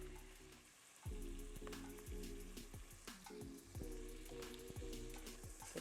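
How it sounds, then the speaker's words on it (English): Onion and garlic sizzle steadily in melted butter in a pan, a continuous close frying crackle with repeated scraping stir strokes and clinks of a utensil against the pan. "Get that cooked down with that butter."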